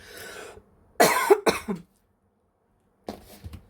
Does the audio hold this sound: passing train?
no